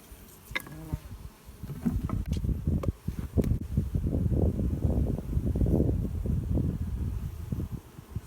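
Honey bees hum and buzz in a dense, continuous drone at an open hive, close and fairly quiet, with individual bees zipping past now and then.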